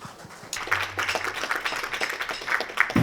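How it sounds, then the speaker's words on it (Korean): Audience applause for a singing contestant at a song contest, a burst of dense clapping starting abruptly and continuing steadily at moderate loudness, with faint background tones beneath. "박수로 성원해 주시기 바랍니다"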